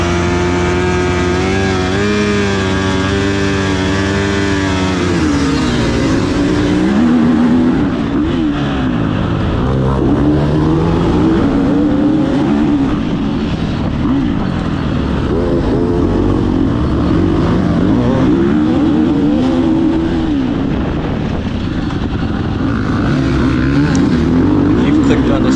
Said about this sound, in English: Live engine start here at the Peninsula Classic.